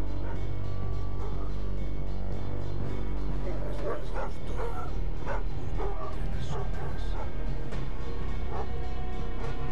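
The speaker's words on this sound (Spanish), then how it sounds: "Mierda, hay perros, joder." Several dogs in the Thief video game bark and yip in repeated bursts over a steady low ambient drone, moderately loud and fairly close.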